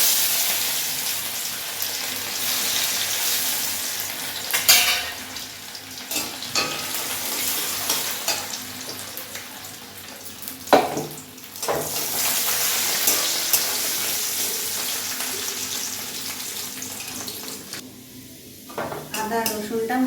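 Chopped ginger and garlic, tempered with dried red chilies, fry in hot oil in a pan with a steady sizzle, broken by intermittent clatters and scrapes of a utensil against the pan.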